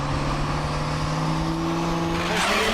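A Duramax diesel-swapped Chevelle sits at a dragstrip staging beams, its engine humming steadily before the revs climb near the end, close and fairly loud.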